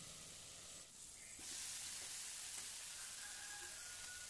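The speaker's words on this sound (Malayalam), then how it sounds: "കുറച്ച് എണ്ണ ഒഴിച്ചിട്ട് അപ്പച്ചട്ടിയിലാണ് ഞാൻ ഫ്രൈ ചെയ്യുന്നത്." Spiced potatoes fry in a little oil in an appam pan for loaded fries, making a soft, steady sizzle that swells into a fuller hiss partway through, quiet and close with no voices.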